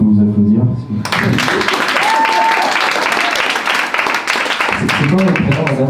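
A theatre audience at a comedy sketch show bursts into dense, sustained clapping that lasts several seconds, bracketed by a voice speaking just before and as it fades.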